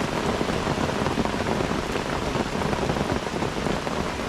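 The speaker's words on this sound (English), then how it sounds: "Oh my god, look at this. This is torrential." Torrential downpour pouring steadily during a carp fishing session, a dense, loud, continuous hiss of heavy rain drumming on surfaces with no pause.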